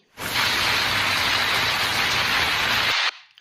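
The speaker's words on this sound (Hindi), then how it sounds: "बारिश भी काफ़ी तेज़ हो चुकी थी" Heavy rain pours in a dense, steady hiss, loud and continuous, then stops abruptly into near silence.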